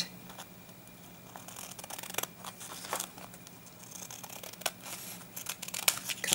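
Scissors snip through paper or card while a small Filofax-style card holder is trimmed along its edge, a series of quiet, close, irregular cuts and light paper rustles over a faint steady hum.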